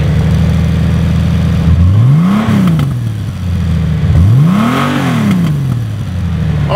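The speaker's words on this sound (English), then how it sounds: "I'm gonna turn this beauty on and you're gonna hear a motor that purrs like you've never heard on a motorcycle before" A 2018 Honda Goldwing Tour DCT motorcycle engine idles smoothly up close, then revs twice, each rise climbing and falling back to a steady, quiet idle.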